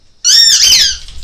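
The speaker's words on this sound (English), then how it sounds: "It's actually a squeaky toy" A dog's squeaky chew toy gives one loud, sharp squeak lasting under a second, close up and alone.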